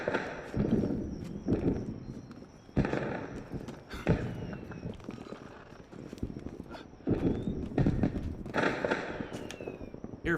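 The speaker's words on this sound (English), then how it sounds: "Here, fireworks." Fireworks crack and pop in bursts during Assassin's Creed Unity, mixed with horse hooves clip-clopping and an occasional neigh in a busy outdoor scene.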